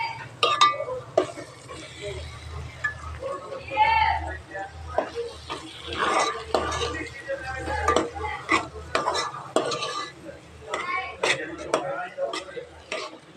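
Mashed potato being stirred and mixed with lemon juice and spices in a bowl, with repeated soft scraping and clinking strokes close by, while a person talks over it and faint background noise persists.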